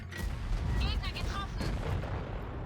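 In World of Tanks Blitz, a Maus heavy tank with Harvester camouflage fires its gun in a loud nearby boom, followed by a rumbling battle bed with metallic clatter and a voice speaking over it.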